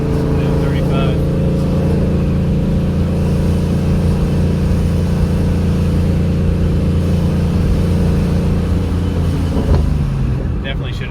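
Steady, loud engine drone from a 2014 Ford Mustang fitted with a Paxton 2200 supercharger, heard from inside as it accelerates, with people talking over the constant rumble.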